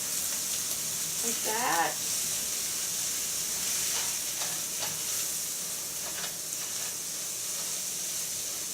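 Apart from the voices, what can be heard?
non-stick spatula folding omelette in a non-stick pan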